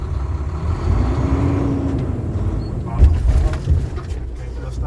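A tractor-trailer truck creeps along at about five miles per hour during a service brake test, its engine a low steady rumble. Louder bumps and knocks come near the end, with someone talking over it.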